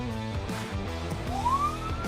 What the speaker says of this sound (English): The BMW driver had spotted a police car leading the pack